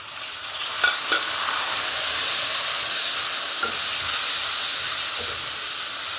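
Tomatoes go into a pan of frying onion, garlic and ginger, giving a steady loud sizzle and hiss with a few soft stirring knocks near the start. No one talks.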